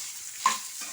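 Tempering seeds hitting hot oil in a pan while cooking papaya curry, giving a quick sizzling crackle that flares briefly and then settles into a soft fry.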